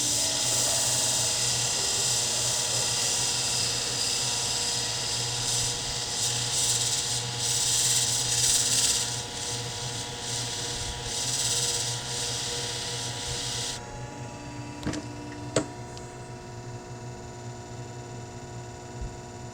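Steel hair shears are ground aggressively on a Scimech Jr sharpening machine, a steady abrasive rubbing over a constant mechanical hum that cuts off about two-thirds through, followed by a few faint clicks.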